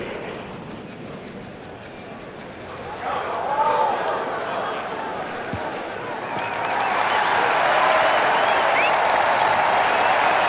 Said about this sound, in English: Thank you for the cheering, crowd.